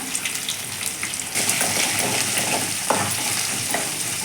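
Onion and chillies frying in oil in a pan while poha is made at home, a constant loud crackling sizzle with soft stirring scrapes, close and without talk.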